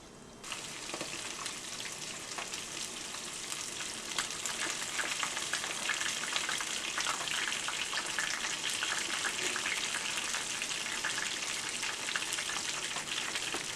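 Bluegill and catfish fry in hot oil with a steady, close crackling sizzle that holds at an even level throughout and has no talk over it.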